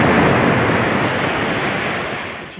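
Steady roar of sea waves washing in close by at a Kemer resort at sunset, broad and continuous with a slight wind rush, fading a little at the end.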